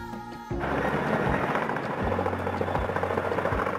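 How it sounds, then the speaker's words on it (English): Large military cargo helicopter, a loud continuous rotor and turbine drone with rhythmic low thumping that starts abruptly after a brief quieter moment and holds steady, close and alone. "Military Cargo Helicopter"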